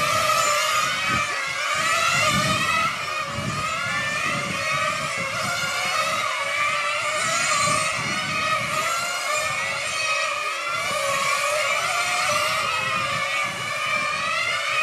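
Nitro-engine 1/8 scale IC track RC race cars scream around a circuit at a European Championship main final, a continuous high-pitched buzzing whine that rises and falls as several cars pass at close to mid distance, with no talk.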